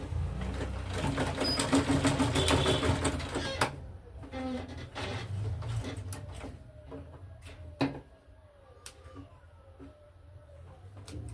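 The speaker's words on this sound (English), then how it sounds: "let me stitch on it so that it does not lose while I'm sewing" A sewing machine stitching Ankara fabric for a tote bag, with quick rattling mechanical whirs in short runs separated by pauses, fairly close, amid clicks and handling noise and some talking.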